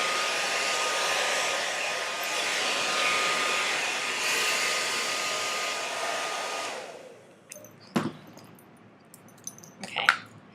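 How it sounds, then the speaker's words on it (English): Remington Studio Pro 2000 blow dryer used with a vented round brush on frizzy hair, a close, steady whooshing roar for about seven seconds before it cuts off, followed by a few soft handling sounds. "I've got the Remington Studio Pro 2000 blow dryer here, and I'm just going to use a round brush with holes in it to let the air go through"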